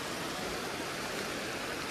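Snowmelt river in Kashmir among mountains, a steady broadband rush of flowing water, close and continuous with no breaks or voices.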